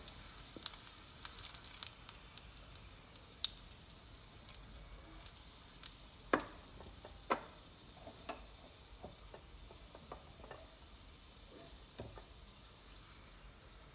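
Garlic and chili frying in oil, a soft, steady sizzle with scattered small pops and ticks from a utensil scooping them out of the pan.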